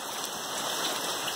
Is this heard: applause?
no